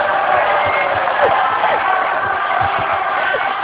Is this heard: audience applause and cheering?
yes